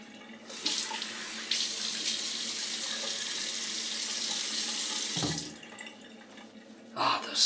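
Tap water runs in a steady, fairly loud rush for about five seconds while rinsing after a shave, then cuts off, followed by a brief splash near the end.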